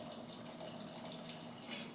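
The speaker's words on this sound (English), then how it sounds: "I add a little bit of water" Water poured from a 5-gallon jug into a blender of almond coconut yogurt, a faint, steady trickling stream lasting about two seconds with no speech.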